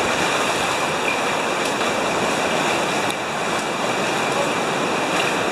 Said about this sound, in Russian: О, какие волны.